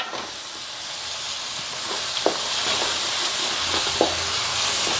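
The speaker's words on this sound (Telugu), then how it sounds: "బాగా వేయించుకోవాలి" Onion, tomato and garam masala fry in a pan for a fish curry, giving a steady, even sizzle with a couple of soft spatula scrapes and no talking.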